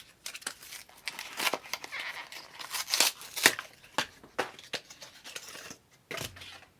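Subscription makeup packaging is ripped and torn open by hand, giving close, uneven bursts of crinkling plastic and tearing with brief pauses between pulls.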